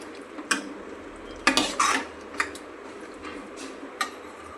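Hotel-style sambar stirred in a pot, heard as a spoon knocking and scraping against the vessel in a few irregular strokes over a light, steady background sizzle.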